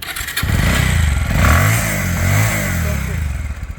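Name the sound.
motorcycle engine running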